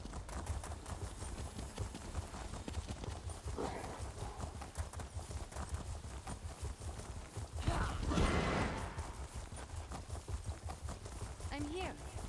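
A horse ridden in The Elder Scrolls Online clip-clops along in a steady, fast hoofbeat rhythm for the whole stretch, with a few brief voice sounds over it.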